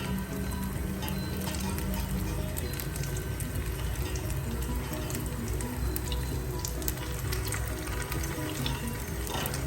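Steady, dense sizzling and crackling of corn kebabs shallow-frying in hot oil, continuous and close, with no talking.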